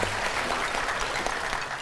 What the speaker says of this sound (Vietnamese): xin cho bạn nam một tràng pháo tay ạ